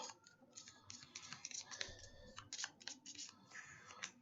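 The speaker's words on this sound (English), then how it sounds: "We shuffle this up." Pandemic Legacy Season 0 board game cards are shuffled close by in quick bursts of crisp, rapid clicking and riffling, with brief pauses between handfuls.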